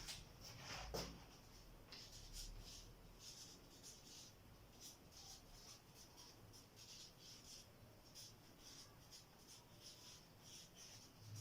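Faint, short scratching strokes of someone writing on a board during a classroom teaching session, repeating at an irregular rhythm over a quiet room background.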